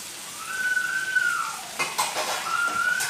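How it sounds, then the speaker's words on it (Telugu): Mint leaves are stirred and fried in oil in a pot, with a close sizzle, metallic scraping and clinks of a utensil against the pan, and a thin whistling tone running through. "ఇలా పుదీనాని కలుపుకుంటూ వేయించుకోవాలి."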